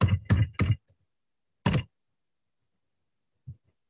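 Computer keys tapped in short bursts while entering a CAD line command, three quick clusters of clicks followed by a single burst and a faint tap at the end, close and alone with no talk.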